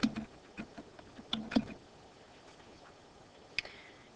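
Quiet, close clicking of computer keys as a short word is typed: a brief burst of irregular taps, a pause, then one last isolated keystroke, with no voices.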